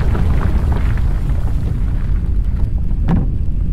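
A hot spring erupts in a Bigfoot hunting video game set in Yellowstone, a loud, continuous low rumbling roar that holds steady throughout.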